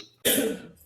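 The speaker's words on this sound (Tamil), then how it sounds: "அப்பத்துல இருந்து வெளியே பயங்கரமா யாரோ இருமுற மாதிரி சத்தம் கேட்டுச்சு" A person gives a single sharp, close cough, a brief harsh burst that fades quickly into quiet.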